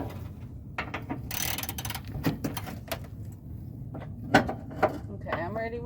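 Hand ratchet socket wrench tightening bolts on a conversion van: a series of short, sharp metallic clicks and ratcheting bursts, close and fairly loud, with people talking nearby.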